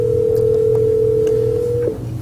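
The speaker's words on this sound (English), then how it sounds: "right now it's taken my phone off hook and I'm on speakerphone on my desktop Cisco IP phone" A Cisco IP desk phone off hook on speakerphone gives a steady, clear dial tone over a low room hum, ending with a small click near the end.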